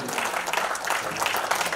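An audience at a Mukti Foundation tribute event gives continuous, dense applause that stays fairly close and even for the whole short stretch, with a faint murmur beneath it.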